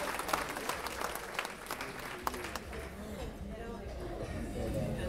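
A banquet audience applauds with dense, continuous clapping, with some voices mixed into the noise of the room.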